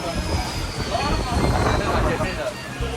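A train rumbles and clatters along rails close by at a railway station, with a faint high squeal and voices mixed in.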